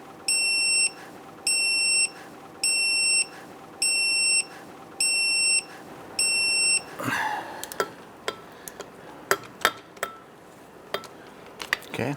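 A torque wrench beeps six times in even, sustained pulses while bolts on a 2011-2021 Jeep Grand Cherokee 3.6L V6 are tightened to 41 foot-pounds, followed by clicks and metallic clatter of tools.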